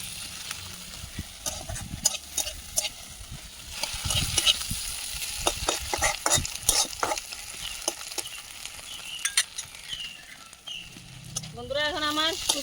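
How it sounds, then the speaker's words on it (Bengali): Dried fish frying in a pan with already-fried onions for an okra and shutki dish, constant sizzle broken by scraping stir strokes and clacks of a spatula, with a voice speaking near the end. "পেঁয়াজ ভাজা হয়ে গেছে, এখন আমি শুটকিটি দিয়ে দিচ্ছি। শুটকিটি একটু ভাজা ভাজা হলে"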